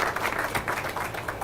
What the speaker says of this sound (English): Let's give them applause for that.